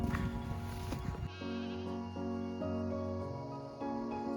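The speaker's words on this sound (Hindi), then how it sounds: "ये बकरी पालन करते हैं, तो इन्होंने अभी ठिकाना अपना यहाँ बनाया हुआ है, और ये इनकी बकरियाँ।" Herded goats bleating at a herders' camp on the Madmaheshwar mountain trek in Uttarakhand, several loud wavering bleats close by, one after another with brief pauses.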